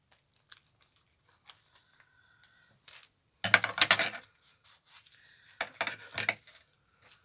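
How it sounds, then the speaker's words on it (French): Scissors cutting straight through material at close range, a dense burst of metallic snipping and rustling, then a second shorter run of cuts, with faint clicks and handling noises between. "Mais ça, je vais couper droit. J'ai bien d'autres ciseaux ici."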